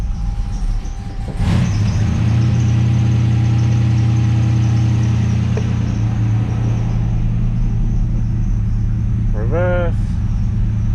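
Turbo LS V8 engine in a 4x4 Toyota Hilux running steadily while shifted into reverse, a loud constant mid-low drone with a brief chirp near the end and talk nearby.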